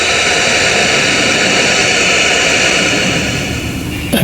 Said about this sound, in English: we've got steam engine sound, so that's working okay